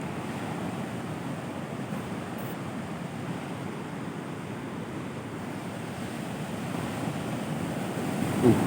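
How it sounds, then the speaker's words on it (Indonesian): Big ocean waves rolling onto a south coast beach, a continuous heavy roar of surf with wind buffeting the microphone, swelling slightly louder near the end. "Ya Allah, ombaknya besar nih"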